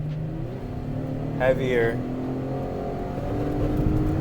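A Chevrolet Camaro drives on snowy winter roads, its engine holding a steady low drone with a brief chirp partway through, while someone talks over it.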